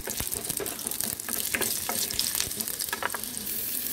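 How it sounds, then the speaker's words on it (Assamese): Salted potatoes fry in oil in a wok until brown, making a close, steady sizzle broken by sharp spatters and scraping stir strokes. "আলুখিনি ব্ৰাউন হোৱাকৈ ভাজি ল'ব।"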